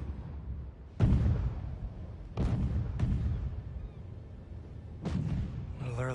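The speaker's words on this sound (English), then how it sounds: "A little early for fireworks." Fireworks in the video game Marvel's Spider-Man 2: four sharp booming bursts spread out over several seconds, each with a rumbling tail, heard at a distance over quiet game ambience.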